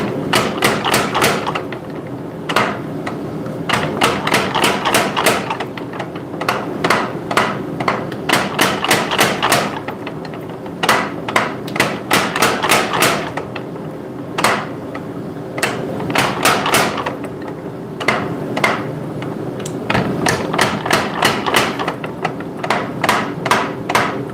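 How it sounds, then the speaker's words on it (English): Hammer blows on cooling hot steel on an anvil while forging a hot cut, loud sharp strikes in repeated bursts of rapid taps with brief pauses between groups. "I'm gonna tap it with the hammer a couple times."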